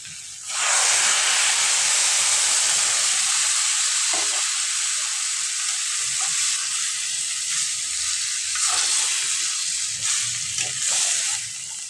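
Water poured into a hot pan of simmering jackfruit and shrimp curry sets off a sudden loud sizzle and hiss that holds steady and close for several seconds, with faint stirring underneath.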